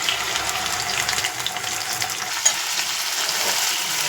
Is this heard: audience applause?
no